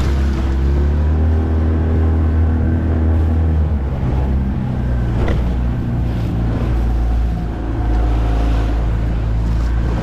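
Boat engine rumbling steadily and loudly while crossing a passing boat's wake in a rough canal, with wind and water noise throughout.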